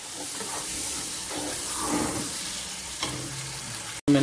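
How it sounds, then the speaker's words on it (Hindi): Cut potatoes and peas stirred into masala in a hot pan, a steady close sizzle and frying hiss with spoon scraping throughout, ending in a brief gap and a louder clink. "इसमें मैं अभी शामिल करने लगा हूँ आलू कटे हुए और मटर। और इसको अच्छे तरीके से मसाले में मिक्स कर लेंगे।"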